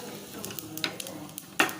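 Spices crackle and spit in hot oil, a few sharp pops over a soft sizzle, close and short.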